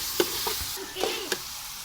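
Dal mash hisses and sizzles in a hot tadka, a steady frying crackle with a few sharp clinks and stirring taps from a utensil, close by and without voices.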